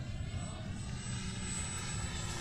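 Electric radio-controlled model airplane in flight at a model flying field, a faint steady propeller drone with a thin high whine, distant and continuous.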